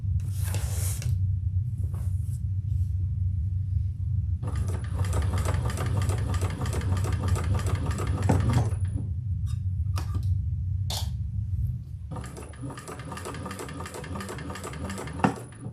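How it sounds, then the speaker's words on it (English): A sewing machine runs slowly while top stitching the front of a leather tote. It makes rapid, even needle chatter in two long bursts, separated by short pauses and a few isolated clicks. "I'm top stitching in the front, so I'm going to pay close attention here. And go slow."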